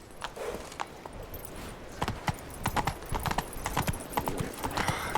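Roach the horse gallops across the world of The Witcher 3, hooves clip-clopping in a quick, steady rhythm that sounds close and fairly quiet, with no talking over it.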